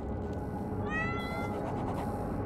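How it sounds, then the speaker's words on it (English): A cat meows in the Repent video game, a single rising, wavering call lasting under a second over a steady background hum, with no speech. "Hey there, kitty."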